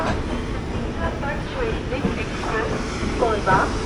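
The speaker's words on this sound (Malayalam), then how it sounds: "ഛത്തീസ്ഗഡ് എക്സ്പ്രസ് ആണത്." Rumbling train noise at a railway station platform as the Chhattisgarh Express stands nearby, with a low steady rolling drone, some clanks, and people talking over it.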